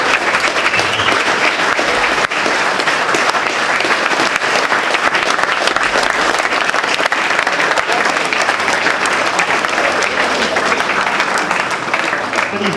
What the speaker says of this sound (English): big round of applause, please, for Phil Heath.